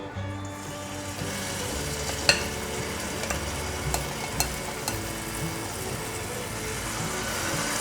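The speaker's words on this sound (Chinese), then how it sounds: "沾上面糊，放入热油锅里面炸" Battered luffa pieces fry in a wok of hot oil, giving a steady loud sizzle and bubbling that continues throughout, with a few small taps and clinks over it.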